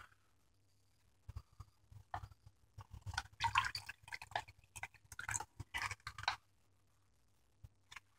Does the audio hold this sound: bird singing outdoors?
no